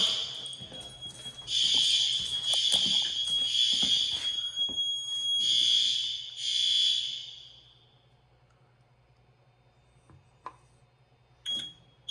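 A loud electronic elementary school fire alarm blares in pulsing bursts during a fire drill for several seconds, then stops, leaving faint background noise and a few brief clicks.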